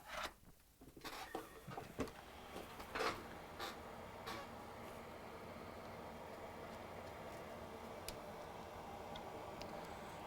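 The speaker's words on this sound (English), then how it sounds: "We're going to start by kicking on our fume extractor" A fume extractor at an electronics repair bench, used for a MacBook repair, runs with a steady, quiet whooshing airflow after a few light clicks and knocks near the start.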